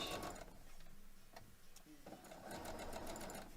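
Close, steady whir and tick of a sewing machine joining a row of quilt block pieces with a scant quarter-inch seam. The rhythm continues through a brief pause, and a voice is heard faintly.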